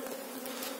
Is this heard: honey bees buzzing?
yes